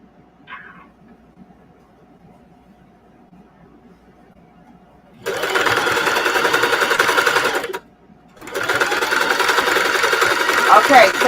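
A sewing machine stitching embroidery onto jeans runs in two long steady buzzing stretches with a short pause between, loud and close after a quiet opening.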